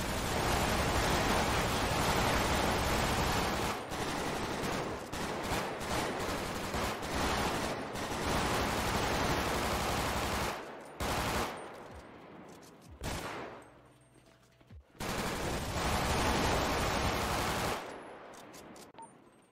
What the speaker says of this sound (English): We're going to do covering fire.